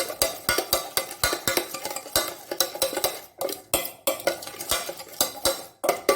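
A spoon stirs masala churumuri, puffed rice mixed with grated raw mango, in a metal bowl, giving a rapid run of close, sharp clinks and scrapes in an uneven rhythm, with brief pauses and no voices.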